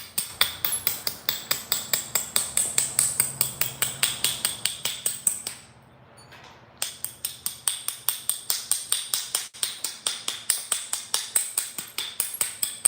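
Sharp, rapid clicking taps of flint knapping as a bevel is put on a stone blade, dozens of close, bright strikes in steady bursts, with a brief pause midway before the tapping resumes.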